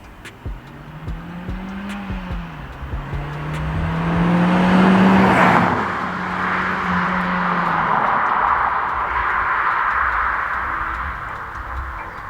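A Mk1 SEAT Leon Cupra R with a 1.8-litre turbocharged 20-valve petrol engine making 210 horsepower pulls hard through the gears, engine note rising and falling with shifts and a loud surge of revs midway, close and continuous.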